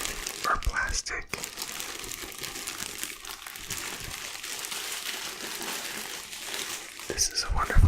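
Crinkling plastic wrapping rustles steadily up close, with a louder crackle near the end and faint talk in the background.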